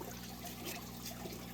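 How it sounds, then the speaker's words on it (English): Water drains from an Oase aquarium canister filter into a bucket, a soft continuous trickle and splash over a low steady hum, faint and unbroken. "I'm gonna drain all the water out as well"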